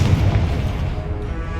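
A Confringo fire spell detonating in Hogwarts Legacy: a heavy, rumbling boom with a low, dense roar that fills the short moment, loud and close with no talking.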